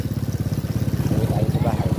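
A Kia CD5 motorcycle, previously misfiring from a bad spark plug, runs while being ridden, its engine firing in a rapid, even, close-up putter that is loud and steady.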